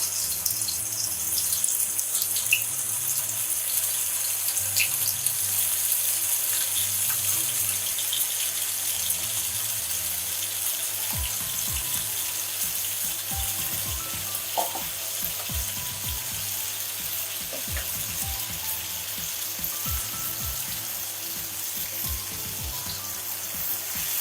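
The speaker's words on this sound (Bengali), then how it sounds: "এখন আমি মাছগুলো ভেজে নেব" Rams fish frying in hot oil on a tawa give off a quiet, steady, high hiss, with faint low pops and crackles scattered through it.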